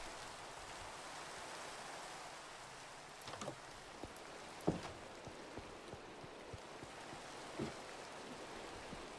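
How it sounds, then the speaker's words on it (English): Rain falling in the video game Minecraft makes a soft, even hiss of fine drops, faint and steady throughout, broken by a few quiet taps. "Oh no, rain."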